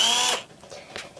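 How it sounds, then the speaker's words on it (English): An electric drill whines steadily for about a third of a second, then cuts out, followed by a few faint clicks and handling noises. "take your drill"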